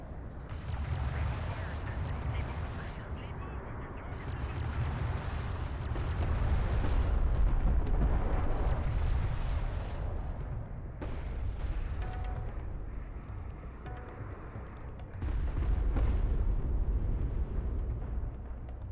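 Artillery fire in the strategy game Homeworld: Deserts of Kharak: a dense barrage of overlapping rumbling booms and blasts that rolls on continuously, swelling and easing, with radio-style voices faintly mixed in.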